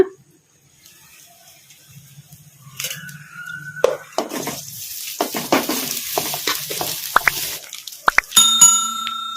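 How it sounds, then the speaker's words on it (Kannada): Cooked rice is stirred into a sizzling tempering for village-style raw mango rice in a pan. A quiet start gives way to scraping, clinking spoon strokes over a soft frying hiss. "ಈ ಅನ್ನನ ಹಾಕ್ಕೊಂಡು ಒಗ್ಗರಣೆಗ"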